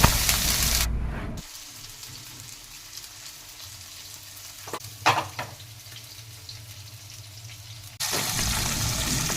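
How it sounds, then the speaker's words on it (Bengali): Pieces of katla fish slide one by one into hot oil, setting off a loud sizzle that drops to a quieter bubbling fry with a few sharp spatters, then swells again. "এবার এক এক করে তেলের মধ্যে আমরা মাছগুলোকে ছেড়ে দিচ্ছি।"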